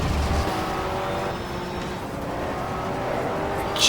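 A touring car in the rFactor racing game, 1987 British Touring Car Championship at Snetterton, downshifting: a loud engine drone stepping down in pitch, with a brief high burst near the end.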